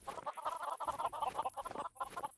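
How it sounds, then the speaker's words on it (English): Chickens in the Minecraft modpack DawnCraft cluck in quick, bursty clusters, close and clear with short pauses between calls and no talk. "We'll be able to grab some of these chickens and just put them in here."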